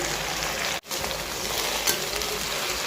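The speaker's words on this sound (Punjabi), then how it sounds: "ਇਸ ਤਰ੍ਹਾਂ ਆਲੂਆਂ ਨੂੰ ਆਪਾਂ ਨੇ ਫਰਾਈ ਕਰ ਲੈਣਾ ਹੈ" Potatoes fry in a pan for potato pickle, a loud, steady close sizzle filling the whole moment, briefly dipping once, with no talking.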